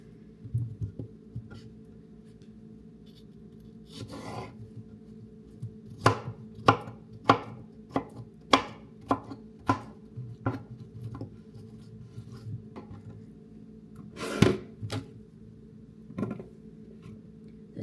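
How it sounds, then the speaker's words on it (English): Knife chopping cucumbers and tomatoes into cubes on a board: a few scattered quiet chops, then a run of evenly spaced crisp strokes and a couple of later ones, close and clear against a quiet room. "It says to cube the cucumbers and the tomatoes"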